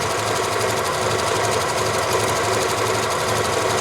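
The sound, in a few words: Janome Memory Craft 6500P sewing machine stitching a design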